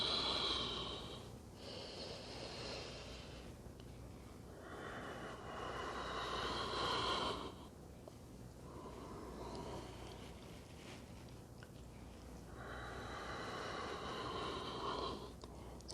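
Slow, breathy exhales during a yoga stretch come in repeated waves of soft airy rushing with quiet gaps between them, close and gentle, with no talking.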